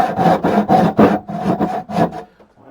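A hand saw cuts wood for a stool with six or seven rhythmic rasping strokes, close and loud, before stopping into quiet.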